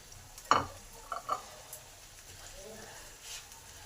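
Spices frying in a pan over medium heat are stirred, giving a few soft scraping knocks and a faint low sizzle, quiet and close, with no talk over them.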